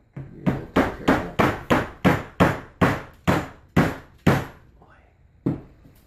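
Eleven sharp, evenly spaced hammer taps drive parts together while assembling a PrintrBot Simple 3D printer, close and loud, followed by a faint rustle and one last softer knock.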